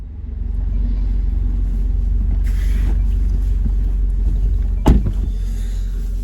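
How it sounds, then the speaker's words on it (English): A 2020 Jaguar F-Type P300 R-Dynamic coupe drives in the rain, its engine a steady low rumble with road and water hiss throughout and a sharp knock or thump near the end. "Right, let's take the F-Type P300 for a drive."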